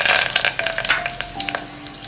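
Ginger-garlic paste and curry leaves are stirred in hot oil, giving a steady close sizzle and crackle with scraping strokes of a spoon against the pan.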